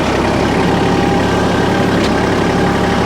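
A farm tractor engine runs steadily at about 1,300 RPM while stirring hay, a loud, close, continuous low drone with no talk.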